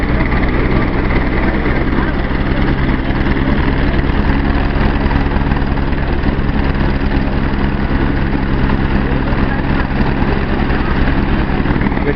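A helicopter at a serious car accident scene runs close and loud, a steady droning engine and rotor hum with a constant low throb and no pauses.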